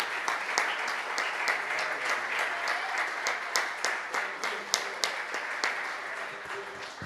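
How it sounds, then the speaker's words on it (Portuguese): A church congregation claps together in praise to God, a dense steady applause with some sharp individual claps standing out near and loud, continuing throughout. "Você pode louvar a Deus com palmas pela sua palavra?"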